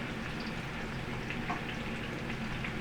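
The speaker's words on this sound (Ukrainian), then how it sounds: "Звук, який ні з чим не спутаєш шкварчить." Steady, dense sizzling hiss of young zucchini and vegetables frying in a hot pan, continuous and even with faint crackles, no voices.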